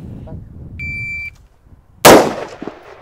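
A steady electronic shot-timer beep sounds, followed by one loud, close gunshot from a Faxon carbine on a shooting range, its crack decaying with a short echo and faint clatter afterward.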